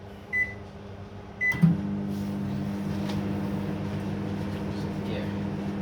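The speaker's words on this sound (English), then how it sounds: "this one goes into the microwave for 90 seconds or a minute and a half" A kitchen microwave oven beeps twice as buttons are pressed, then clunks on and settles into a steady low hum that runs to the end, close by and with no voices.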